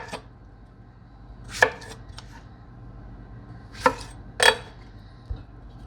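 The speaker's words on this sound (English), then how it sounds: "I'm just going to quarter these. Just a rough chop." A knife roughly quarters tomatoes for sauce, giving a handful of distinct chops against a cutting board that come irregularly, close and crisp, over quiet room tone with no talk.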